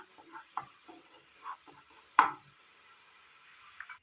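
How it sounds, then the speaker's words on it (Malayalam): Cooked Kerala-style chickpea (kadala) curry is moved into a bowl with a few soft spoon scrapes and one sharp knock against the rim, close up in a quiet kitchen. "ഇതൊരു ബൗളിലേക്ക് മാറ്റി വെക്കാം"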